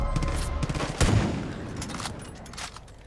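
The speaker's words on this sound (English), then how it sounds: "I got his big fuck off rifle, and I'm gonna shoot you all in your big fuck off heads" Rifle fire in Far Cry 5 comes as a dense, loud volley of close gunshots, with one heavier blast standing out partway through over constant rumbling noise.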